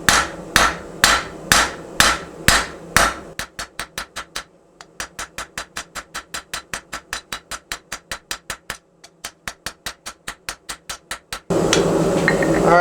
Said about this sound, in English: We're going to use a rounding hammer,